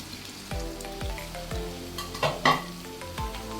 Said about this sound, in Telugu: ముక్కలు వేగాయి కదండి, ఇప్పుడు మనం ఉడికించి పెట్టుకున్న ములక్కాడని వేసుకుందాం.